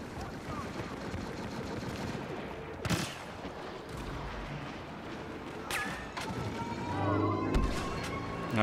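Gunfire crackles through a Star Wars Battlefront match on the Bespin map, with sharp blaster shots, bursts and explosive cracks scattered over a busy battle ambience, some close and loud, others more distant.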